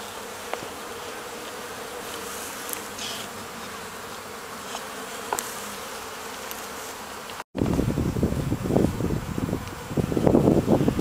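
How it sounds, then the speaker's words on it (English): Honeybees on five frames in a barn hive in mid-March, a steady close buzz with faint ticks, then louder, rougher bursts of buzzing after a brief cut. "These are bees on 5 frames in the barn hive in March."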